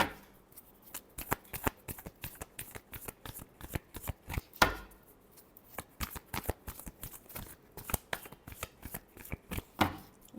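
Tarot cards are shuffled by hand close up in repeated quick riffles and soft slaps, an irregular run of crisp papery bursts.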